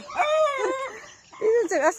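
Chickens cluck and call close by, several rising and falling squawks in quick succession over a noisy yard.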